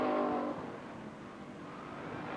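A street stock race car powers out of a corner at Lake Geneva Raceway during the 1998 fall classic, its engine roaring loudly before easing into a sustained rushing drone at a distance.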